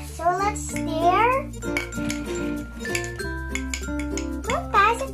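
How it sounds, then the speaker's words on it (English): A spoon stirs Swiss Miss unicorn hot chocolate in a mug, with light clinks against the sides that stay mostly under a child's chatter and other voices. "Yeah, stir first a little more"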